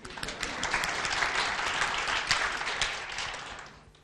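Dense audience applause at a tech talk, many hands clapping in a full, steady wash that swells and then fades out toward the end.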